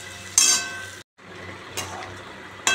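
Mixed vegetables with coriander powder, salt and turmeric being stirred and sautéed in a pan, a steady sizzle with scraping bursts of the spatula, one brief break, and no voices.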